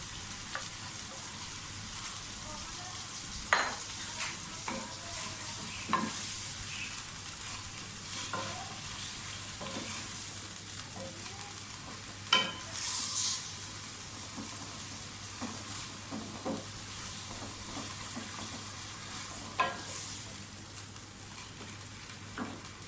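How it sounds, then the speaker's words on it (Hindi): Minced meat keema frying in a pan for khara masala qeema, a constant moderate sizzle broken by repeated scraping and knocking of a spoon as it is stirred, no voices. "इसको भी थोड़ा सा बस फ्राई करें और साथ ही कीमा डाल दें। कीमे को भूनें इसके साथ।"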